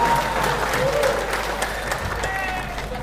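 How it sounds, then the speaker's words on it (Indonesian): Audience applause at a regional journalists' association national coordination meeting in Demak, a steady wash of many hands clapping that holds evenly for about three seconds, with a few voices mixed in. "Tepuk tangan."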